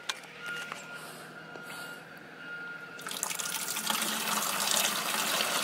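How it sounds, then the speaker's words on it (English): Used motor oil is poured from a car oil filter into a bucket; quiet handling noises first, then a steady, fairly loud liquid pour and splatter that continues to the end. "see if y'all can see this when I pour it into the bucket"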